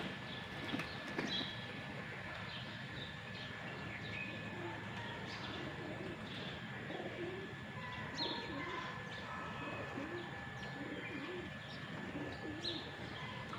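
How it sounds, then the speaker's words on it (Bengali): Pigeons gathered in front of a house in the morning coo softly and repeatedly, with scattered chirps from other birds over a steady outdoor background hum. "সকাল সকাল কেমন পায়রাগুলো"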